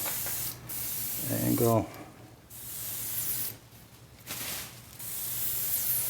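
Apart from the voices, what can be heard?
spray gun painting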